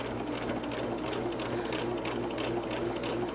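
A sewing machine stitching binding onto a table runner runs in a fast, steady mechanical rattle, close and even throughout with no voices.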